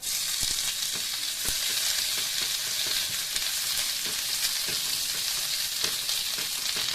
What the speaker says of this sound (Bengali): আদাটা বেশিক্ষণ ফ্রাই করবো না তেলে